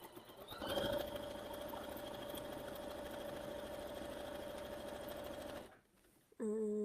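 A sewing machine runs a long straight quilt seam in one steady, continuous hum of fast stitching, close and even throughout, then stops abruptly near the end, with a brief quiet gap before a new sound starts.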